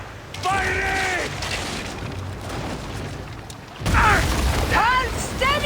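Heavy cannon booms and mechanical clatter from a warship firing on approaching fire ships in Assassin's Creed Origins, loud and close, with shouted voices over the shots.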